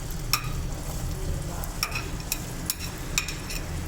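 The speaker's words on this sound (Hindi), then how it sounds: "ऑयल गर्म हो गया है, और ये जो मैंने 1 पाव प्याज ली थी, जिसको चॉप कर लिया था, इसमें से मैं आधी डाल दूँगी" Chopped onions frying in hot oil for a Hyderabadi beef kheema, a soft, even sizzle near the pan with a few sharp clicks and scrapes from stirring, no voices.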